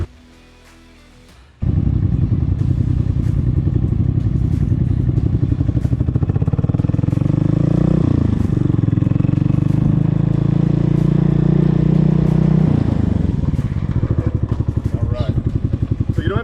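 A police training motorcycle idles and creeps at low RPM during a motor academy exercise, a loud, close, steady engine thrum that dips and rises slightly with throttle before easing off. A voice gives instructions over it.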